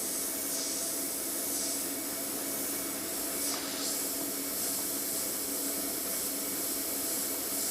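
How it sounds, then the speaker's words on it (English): A constant, close airbrush hiss of spraying thinned acrylic ink, steady and unbroken throughout, with faint periodic swells in the airflow. "that's spraying absolutely spot on now"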